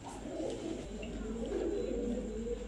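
Kala Gorra pigeons at a breeder's lofts coo in a continuous low, throaty murmur that runs unbroken and fairly close throughout.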